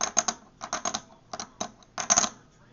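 Hard little clacks of heavy clay poker chips come in quick clusters as they are dropped and knocked together, crisp and close with short pauses between bursts.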